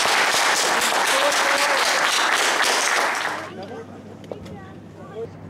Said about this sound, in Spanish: Les vamos a dar un aplauso porque gracias a ustedes.